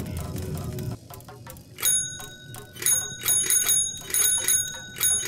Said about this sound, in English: Oh, another bell!